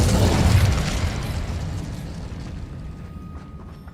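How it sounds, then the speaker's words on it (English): Incendio fire spell cast in the Hogwarts Legacy video game, a loud whooshing burst of flame that starts strong and fades into a long roaring tail over several seconds. "Incendio!"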